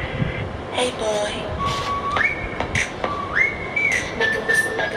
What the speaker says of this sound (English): they're really whistling the song